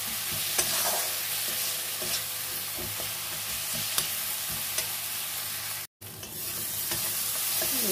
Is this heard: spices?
yes